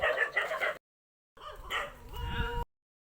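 Dogs outdoors on rural land near limestone hills, giving a few sharp, close barks and yips in two short bursts separated by a brief gap.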